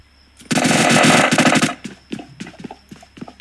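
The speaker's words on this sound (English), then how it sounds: "Yes, some gunfire." A loud, sustained burst of rapid automatic gunfire lasting about a second, followed by scattered quieter shots and clatter.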